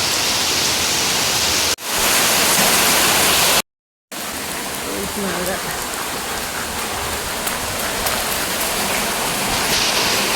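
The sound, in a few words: heavy rain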